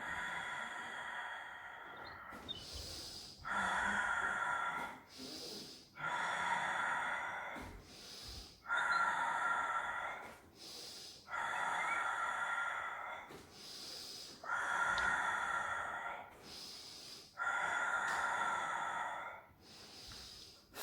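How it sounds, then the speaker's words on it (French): Pilates breathing, with repeated slow, forceful breaths through the nose and out the mouth forming an even rhythm of about eight long airy hisses separated by short pauses, close and clear. "Inspire par le nez"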